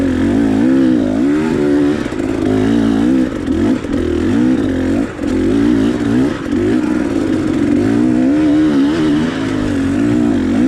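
A KTM 300 XCW two-stroke dirt bike climbs a mountain trail, its engine loud and close throughout, revving and bogging in rapid surges as the rider works up steep, rough terrain.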